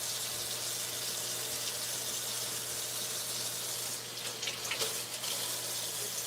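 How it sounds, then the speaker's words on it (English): Tap water running to rinse vegetables, a steady faint hiss of flowing water with a few splashy clatters near the end, no talking. "Got all our veggies rinsed off."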